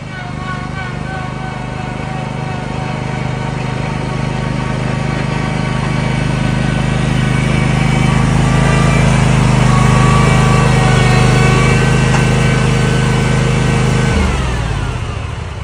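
Zero-turn riding lawn mower engine running loud and steady close by, with a gradual swell in level before it cuts off abruptly near the end.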